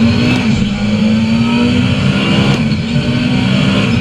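A race car engine in a video racing game drones steadily and loudly at a fairly constant pitch, with no talk over it.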